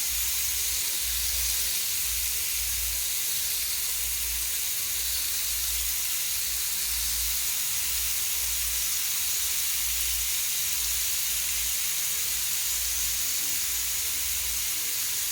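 Tandoori prawns sizzle steadily in a pan over medium-low heat, a continuous loud hiss and crackle close up with a low throbbing hum underneath, no voices.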